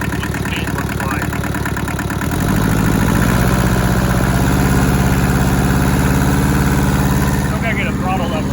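A rusty Hinomoto tractor engine runs loudly up close in low range, its chugging rhythm swelling as the load picks up, while a voice talks over it at times.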